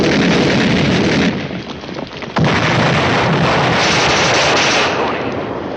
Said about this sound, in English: 100 will bring that artillery right down on top of you